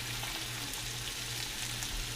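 Squirrel meat and diced green chilies frying in a pan with sautéed onions, giving off a loud, continuous sizzle that holds steady from start to finish, close up and without talk.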